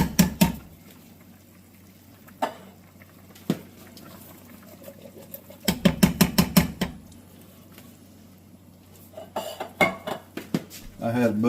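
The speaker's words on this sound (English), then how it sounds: "the pot has returned to a rolling boil. I'm going to add our red beans." Red beans are tipped into a pot at a rolling boil, bringing rattling clatter and bursts of pot and utensil clinks over a steady bubbling hiss, close and fairly loud.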